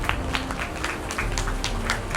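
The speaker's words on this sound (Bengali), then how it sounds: "একটা জোরে হাততালি হোক" An audience at a stage program claps in scattered, sparse bursts, a moderately loud patter of individual hand claps without cheering.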